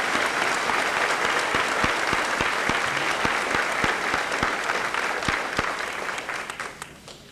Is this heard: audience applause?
yes